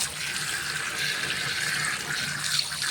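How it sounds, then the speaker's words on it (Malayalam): Leaves are washed under a running kitchen tap, a steady close rush of flowing water splashing continuously for a few seconds with no talking. "ഞാൻ ഈ ഇല വാഷ് വെച്ച് ഒന്ന് കഴുകണം."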